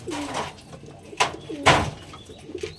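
A pair of Andhra pigeons coo softly and close by. Several low, throaty coos come in uneven bursts, with faint rustling between them and no speech.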